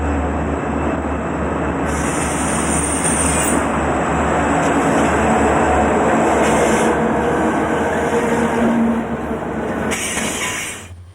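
A freight train rolls through Feather River Canyon near the West Branch Bridge, heading toward Tunnel 5. The rumble is loud and continuous, with high metallic wheel squeal rising and falling over it.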